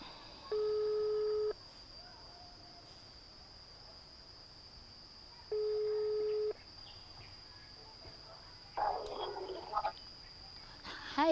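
A telephone call's ringing tone sounds twice, each a steady electronic burst about a second long spaced several seconds apart over a quiet line hiss, followed by brief rustling and clicks as the call connects.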